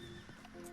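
A horse in the video game Red Dead Online whinnies in a short, high, wavering call over a steady background hum, with a faint clop partway through.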